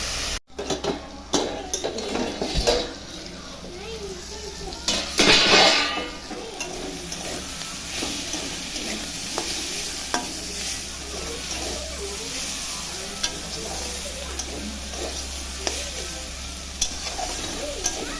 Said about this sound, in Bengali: আর একটু ভাজা ভাজা হবে।